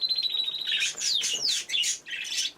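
Pet canaries and budgerigars chirp and squawk nearby in a quick run of bright, rising and falling tweets and whistles over a couple of seconds.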